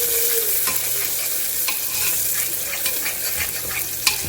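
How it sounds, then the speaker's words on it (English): Chilies sizzle steadily as they are stirred into browned onions in a pan while cooking Hyderabadi chicken haleem, a constant frying hiss with occasional soft scrape and clink accents, close and alone. "Now we are going to add our chilies. Mix it"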